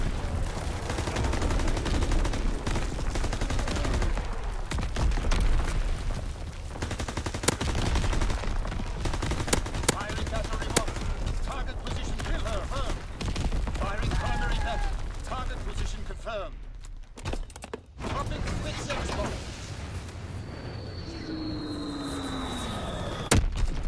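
Aircraft strafing-run gunfire in Call of Duty WW2 roars in long, heavy bursts over explosions and battle noise, with talking over much of it before a quieter tail with a passing whine.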